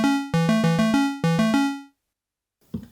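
A Roland S-1 synthesizer plays a melody pattern, a quick run of bright plucked notes in two short phrases that decay into silence, followed by faint noise.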